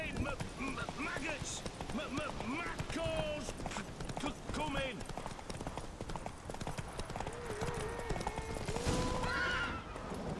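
Roach the horse gallops with steady clip-clop hoofbeats and an occasional whinny in The Witcher 3, the running rhythm continuous and close beneath game music and voices.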